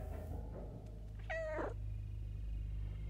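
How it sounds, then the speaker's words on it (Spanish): A cat meows once in the video game Stray, a clear, drawn-out cry heard alone over a steady low hum of game ambience. "Solo para mí, un gatito tiernito."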